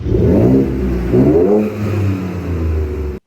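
A deep, throaty aftermarket Raptor exhaust on a non-Raptor truck revs repeatedly, rising and falling in loud surges over a rumbling idle, close by and without talk.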